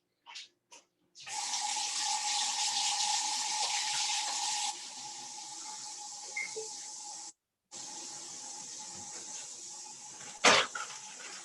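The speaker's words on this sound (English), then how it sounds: "Let me wash my hands really quick." Tap water runs steadily into a kitchen sink as hands are washed, with a couple of brief interruptions and a short clunk near the end.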